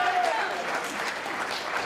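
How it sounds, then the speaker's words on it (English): A group of players applauds after a classroom fishing game round, a soft, steady patter of clapping at low volume with voices talking over it. "Round of applause, guys."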